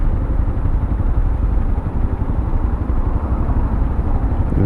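A motorcycle engine runs steadily at close range, a loud continuous rumbling drone with no pauses.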